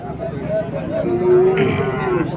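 A native breed cow at a cattle market gives a loud, close, drawn-out moo lasting a couple of seconds.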